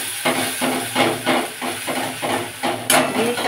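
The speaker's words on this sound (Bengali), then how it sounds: "একটা কাঁচা লঙ্কা দিলাম আর টমেটো বাটা, একটা ছোট্ট টমেটো বাটা দিয়ে দিলাম।" A green chili and tomato paste hit very hot oil with cumin seeds, giving a pulsing, hissing sizzle close by with rhythmic surges, likely from stirring.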